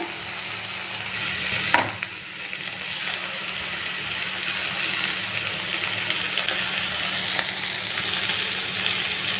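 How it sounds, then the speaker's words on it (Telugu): Egg sizzling and frying in a pan with vegetables and leftover biryani, a steady broadband crackle throughout with a brief louder clatter near the start as the egg goes in. "ఇప్పుడు మధ్యలో ఎగ్ వేసేద్దాము"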